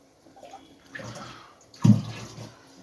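Aquarium water is poured from the tank into a mug, giving a brief splashy pour that builds to a louder gush near the middle before trailing off, close by with no talk.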